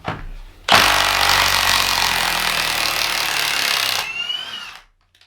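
A Milwaukee M18 Fuel mid-torque 1/2-inch impact wrench with friction ring hammers loudly up close while removing a bolt, a continuous rattling burst of about three seconds before spinning down to silence.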